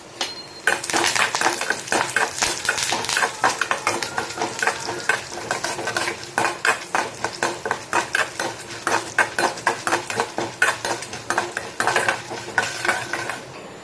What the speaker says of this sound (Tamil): கடுகு நல்லா பொரிஞ்சு வரட்டும்.